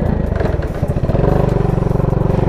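A motorcycle engine runs right up close after a rear brake repair with a new brake arm, its loud, rapid exhaust pulses throbbing and rising slightly in a steady revving rhythm.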